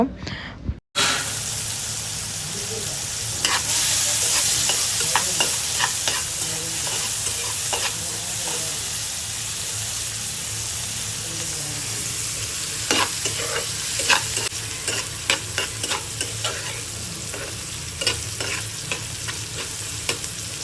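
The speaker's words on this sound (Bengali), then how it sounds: "এখন এটাকে হালকা করে ভেজে নিব" Small prawns coated in turmeric and salt fry in a pan with a steady, close sizzle, punctuated by occasional clicks and scrapes of stirring.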